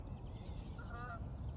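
Geese honking overhead while flying, a few faint calls in the middle of the clip standing out over steady outdoor background noise.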